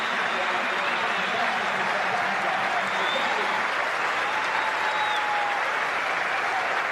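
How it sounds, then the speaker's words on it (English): A Sydney cricket crowd applauds batsman Graham Smith in steady, dense, sustained applause filling the stadium, with a commentator speaking over it. "the Sydney crowd really appreciating Graham Smith's courage to come out and bat for his country"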